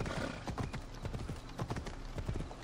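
A horse gallops in the video game Assassin's Creed Odyssey, with rapid, rhythmic hoofbeats thudding close and loud throughout over a dense, busy game soundscape.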